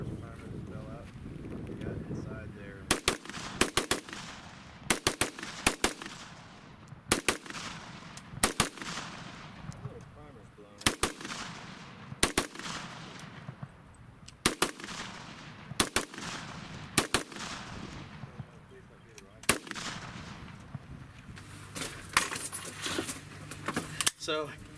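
An Arsenal SLR 106, a Bulgarian-made AK chambered in 5.56 with a CMC trigger, fires at an outdoor range, sharp single shots spaced irregularly in loose groups, loud with wind noise between them.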